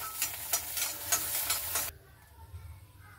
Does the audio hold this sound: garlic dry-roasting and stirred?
yes